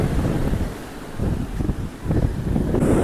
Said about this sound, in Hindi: लहरे देखो लहरे।